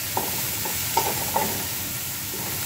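Vegetables frying in a pan with garlic and onion, stirred for an Arabic vegetable biryani: a steady sizzle and hiss under a few soft scraping strokes of the utensil, with no talking.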